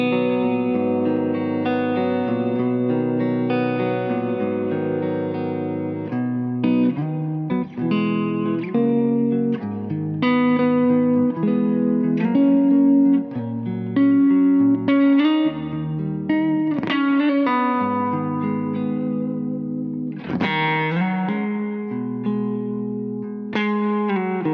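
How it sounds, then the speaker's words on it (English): Les Paul Custom electric guitar played through a Kemper on a clean tone, sustained chords and melodic notes ringing continuously with light effects, close and steady with no talking. "Now I'm going to switch my Kemba to a clean tone and hear some sweet tones on this Les Paul Custom."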